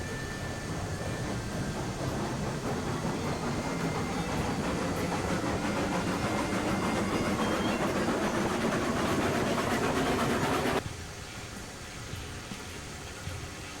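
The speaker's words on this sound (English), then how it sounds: "We're gonna hook up to one of these trains." A train with a caboose in the railroad game RailRoads Online rumbles along steadily with clickety-clack rail noise, loud and continuous, then drops abruptly to a quieter hum near the end.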